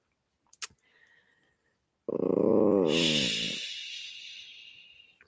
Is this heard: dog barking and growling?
yes